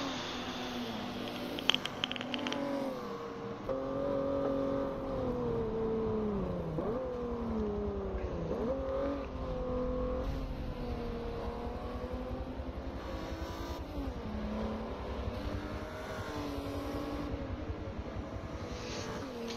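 A race car engine roars in Forza Motorsport 7, a sustained high revving whine that rises and falls with gear shifts and acceleration, steady and prominent throughout as the car tears down the road.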